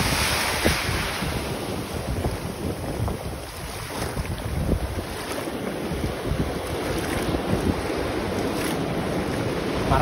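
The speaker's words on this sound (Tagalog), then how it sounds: "Malalaki ang alon." Heavy ocean waves at a Christchurch, New Zealand beach surge and wash continuously, mixed with gusty wind buffeting the microphone, with no voices.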